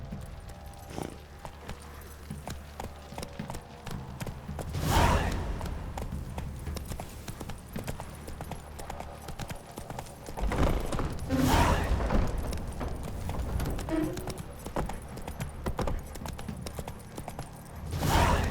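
Roach, a horse in The Witcher 3: Wild Hunt, galloping in rhythmic clip-clop hoofbeats, steady and close, with a few heavier thumps and surges along the way.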